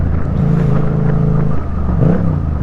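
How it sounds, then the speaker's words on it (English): Yamaha MT-07 motorcycle engine braking: a loud, steady droning engine note that drops slightly in pitch, then surges briefly near the end. "The engine braking on this as well just sounds mental."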